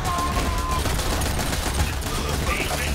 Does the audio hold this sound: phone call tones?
no